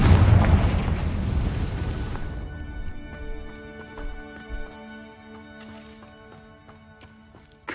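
A Confringo blasting curse erupts in a Hogwarts Legacy video game, a loud close boom that roars and then fades over a couple of seconds into quieter rumbles and scattered small impacts.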